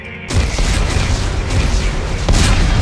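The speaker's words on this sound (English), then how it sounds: "Computer, arm explosives. And detonate." Explosives detonate in Dead Space 3 with a sudden heavy boom that rolls into a sustained, loud rumbling blast, swelling again near the end.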